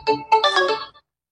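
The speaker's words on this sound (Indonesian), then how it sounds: "Dek Yud, sebentar ya, aku angkat telepon dulu ya." A mobile phone ringtone plays a short melodic burst of bright tones lasting about a second, close and clear with no talk over it.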